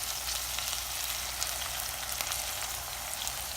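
Onions frying in a pan for black beans and rice give off a steady, even sizzle with faint crackles, close and continuous, with no voices over it.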